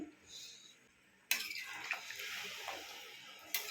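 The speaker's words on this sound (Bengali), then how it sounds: "এবারে দিয়ে দেবো এই ঝোলটা পুরোটাই দিয়ে দেবো এটা মাংসেরই জল" Meat broth poured into a pot of browned potato and meat curry, a sudden splashing gush that starts partway through and keeps running steadily, close and fairly loud.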